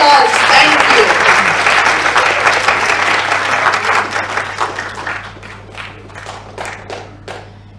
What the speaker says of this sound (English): Yes, they do deserve an applause.